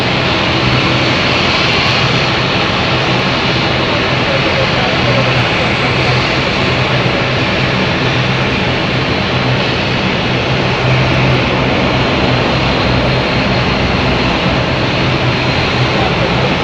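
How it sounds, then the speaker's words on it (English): Turboprop aircraft engines at London City Airport, a loud, steady, broadband roar with a constant drone that holds unbroken throughout, close and dominant. "Look at 2 turboprop jets, or aircraft I should say"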